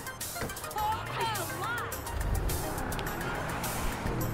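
A car engine hums and revs up in GTA Online, joined by tire and traffic noise, with a person talking over it at times.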